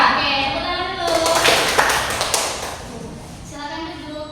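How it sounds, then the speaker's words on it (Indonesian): A class of children claps hands together in a classroom, a brief dense patter of many small claps rising out of a teacher's voice, with talking on both sides. "Oke, tepuk tangan dulu."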